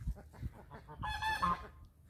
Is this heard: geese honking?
yes